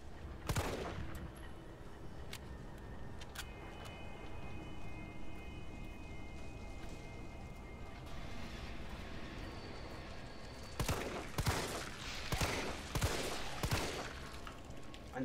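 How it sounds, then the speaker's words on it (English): A handgun fires repeatedly in the video game Resident Evil 3 Remake. Scattered sharp shots come over a steady background din, then a rapid cluster of loud cracks arrives toward the end. "Until you pop, I don't stop shooting."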